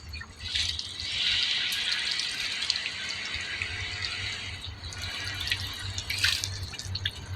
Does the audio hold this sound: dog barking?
no